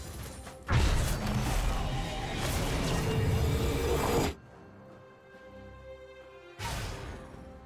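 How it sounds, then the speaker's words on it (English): A turret is destroyed in the League of Legends video game, a loud crashing, rumbling collapse lasting several seconds that cuts off abruptly into quieter game ambience before another burst of noise. "Red team's turret has been destroyed."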